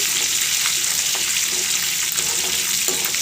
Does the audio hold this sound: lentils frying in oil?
yes